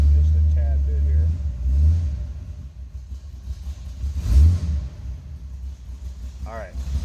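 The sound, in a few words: 1932 Chevrolet Master Roadster engine warming up after cold start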